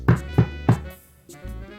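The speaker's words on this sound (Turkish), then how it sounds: "Kapıyı çalmış." Three quick, evenly spaced knocks on the door of a grandmother's house in a Little Red Riding Hood story, close and fairly loud, followed by a short quiet pause and a softer thump.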